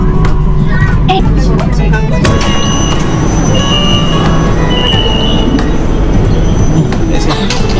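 A Kuala Lumpur MRT train rumbles loudly along the rails with squealing wheels and metallic screeches, a constant close roar with faint voices mixed in.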